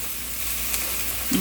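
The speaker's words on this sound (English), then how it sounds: "Let the plums cook together." Plums and onions cook in a pan for Georgian kharcho soup, giving a steady, soft, close sizzle with a faint scrape near the end and no voices.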